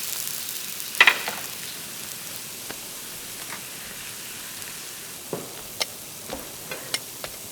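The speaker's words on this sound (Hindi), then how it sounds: "अभी तो बस तड़का लगाया है जी।" Tadka tempering spices in a frying pan gives a soft, steady sizzle with scattered sharp pops and crackles, faint and close, with no voices over it.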